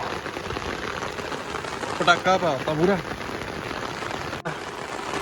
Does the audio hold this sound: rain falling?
yes